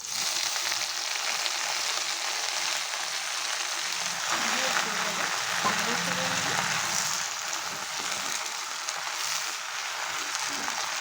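Taro leaves frying over a high gas flame in oil with black cumin, garlic and green chili, a steady close sizzle and crackle throughout, with a faint stirring scrape in the middle.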